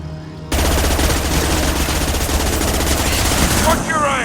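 Gunfire in the video game Mass Effect 2 opens abruptly into a loud, sustained burst of rapid automatic shots that runs almost continuously, with game voices faintly underneath.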